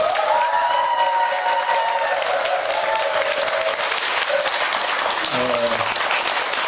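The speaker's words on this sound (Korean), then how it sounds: "큰 박수 한번 부탁드리겠습니다" Congregation at a Buddhist temple eye-opening consecration ceremony in Changwon claps in sustained, even applause, with a voice speaking over the start and a brief voice near the end.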